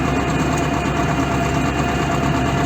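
A T-25 tractor engine hums steadily and close while weeding a pumpkin field, a continuous vibrating mid-low drone, no voices, holding at an even level throughout.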